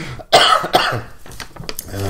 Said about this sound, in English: Let's try not to cough.